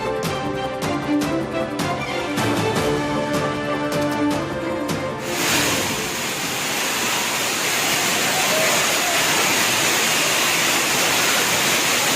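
Suruli waterfall in Theni district, India, a steady loud roar of falling water that swells sharply partway through, following a stretch of music with a beat.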